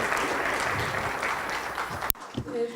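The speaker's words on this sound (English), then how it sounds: "Por favor, un aplauso para los especialistas de Hungría." Audience applause at an international symposium conference, a sustained dense clapping that swells for about two seconds and then cuts off abruptly, followed by faint room noise and a few scattered sounds.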